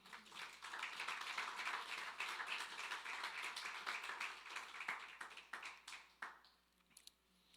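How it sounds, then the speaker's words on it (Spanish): A church congregation applauding steadily during a sermon, dense clapping that fades out into a few scattered claps. "Dale un fuerte aplauso al Señor."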